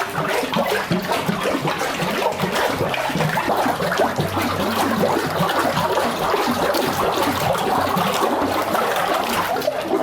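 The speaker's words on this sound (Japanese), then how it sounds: "結構かき混ぜてる時の音とか、この手に伝わってくる抵抗とかでこの練りがどれぐらい効いてるかっていうのを今確かめてます。" Honminoshi papermaking pulp mixed with neri is stirred by hand in a water vat, producing continuous sloshing, churning and splashing that stays close and steady throughout.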